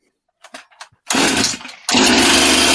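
A Craftsman/MTD 4-stroke chainsaw fires up indoors in a basement after a couple of short pulls, then runs loud and close, dipping briefly before revving back to a steady, harsh buzz.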